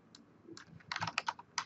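Keys tap on a computer keyboard in a quick, uneven burst of close, crisp clicks that thicken into a rapid run near the end, with no voices.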